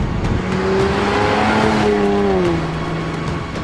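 A supercharged Jaguar F-Type V6 sports car engine revs loudly and continuously, its tone climbing and then easing back as the car drives close by, with a steady road rumble underneath.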